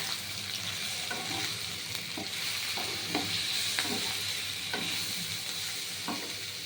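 Chilli, cumin and garam masala powder sizzle steadily in a pan for a Bengali navaratna curry, broken by repeated light scrapes and knocks from a spoon stirring the spices.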